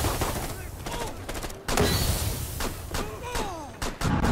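Rapid gunfire from the video game Rainbow 6 Siege: repeated sharp bursts and volleys crackle close and loud, with a heavy impact near the middle and gaps between the shots.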